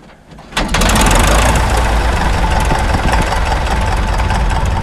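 A J3 Piper Cub aircraft engine on skis catches with a sharp start after a quiet moment, then settles into a loud, steady, throbbing idle up close.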